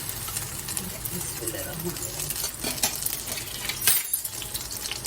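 Chicken shami kababs fry in ghee on a flat tawa, giving a steady, close hiss and crackle with a few faint clinks. A voice talks over the sizzle throughout.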